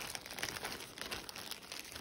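A plastic bag that held a Barbie Signature Holiday doll crinkles softly as it is handled, a faint, steady rustle close by with no speech.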